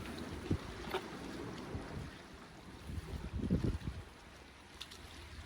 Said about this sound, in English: here comes the wind now, look, just as I want to blooming weigh it